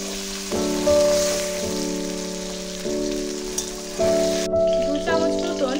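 Boiled potato pieces frying in mustard oil over tempered spices give a steady close sizzle with occasional louder bursts, running beneath a continuous melodic music bed.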